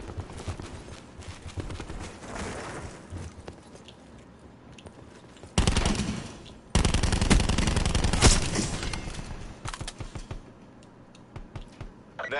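Rapid SMG fire in Black Ops 4, bursts of gunfire over game ambience, loudest in sustained volleys toward the middle, with scattered shots and effects around them.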